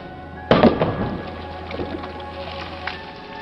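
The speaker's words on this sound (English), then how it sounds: "Today we will have a very close look at explosions underwater." A firecracker explodes underwater with one sharp, loud burst followed by a dull rumbling wash and fainter crackles fading out.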